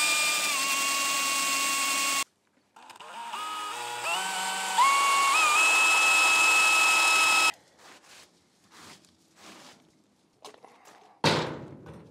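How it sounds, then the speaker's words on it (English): An electric drill boring out center-punched holes in the steel of a cheap truck bed crane, a loud whining motor that shifts pitch as it loads and unloads, followed by clunks and handling noises. "Center punch these real quick and drill them out."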